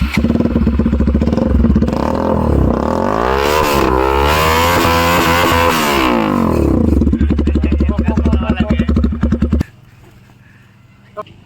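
A Bajaj NS200 BS6 motorcycle with a full-system SC Project aftermarket exhaust revs hard and loud up close, rising and falling through several sweeps before cutting to a near-quiet idle at the end.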